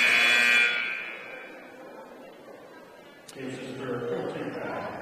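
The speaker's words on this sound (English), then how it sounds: "all the buzzers and stuff, we're a little over-calibrated on the noise" Loud electronic buzzer in a high school boys' basketball gym, one long blare that fades after under a second, followed by crowd murmur and speech.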